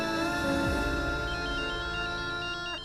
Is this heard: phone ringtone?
yes